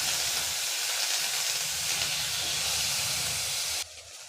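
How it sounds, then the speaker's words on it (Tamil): Tomato, onion and curry leaves sauté in a pan with a steady, broad hiss that holds loud and even, then cuts off abruptly near the end. "ஒரு பழமான தக்காளி சேர்த்துக்கலாம் ஒரு கொத்து கருவேப்பிலை இது எல்லாத்தையும் சேர்த்து நல்லா வதக்கி விட்டுடலாம்"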